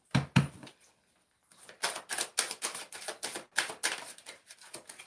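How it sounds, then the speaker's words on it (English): Tarot cards being shuffled close up, a fast run of crisp, rhythmic flicks and riffles after a couple of soft knocks and a short pause, with no talking. "I'm going to give them one more shuffle"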